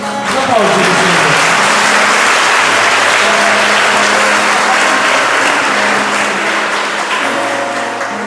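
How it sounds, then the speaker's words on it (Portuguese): A church congregation applauding: loud, sustained clapping from a large crowd, steady throughout, with voices faintly underneath. "Vamos aplaudir o Senhor."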